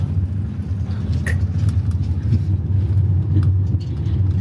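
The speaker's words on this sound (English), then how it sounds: "Guys, we just got off the shuttle bus." Shuttle bus near Hakone Yumoto Station gives a steady low engine rumble close by, idling with faint background clatter and no talking.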